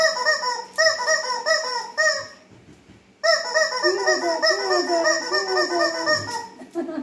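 A dog plays with a squeaky rubber rooster toy, setting off bursts of rapid, loud, honking squeaks close by, with a short quiet pause midway.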